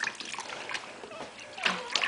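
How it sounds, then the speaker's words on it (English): Water splashing and trickling as a baby girl's hair is rinsed in a bath, a steady wet wash with brief louder splashes near the end, close and moderately quiet. "now let's rinse her head."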